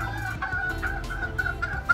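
Two-month-old young roosters (stags) give short clucks and a rough, strained attempt at crowing, fairly close, in brief repeated bursts with no voices.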